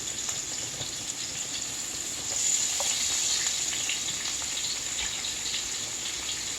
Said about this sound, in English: just throw your onion in there and let it saute